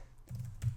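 Soft keystrokes on a computer keyboard, a few quiet taps in quick succession, faint and close, with no talking.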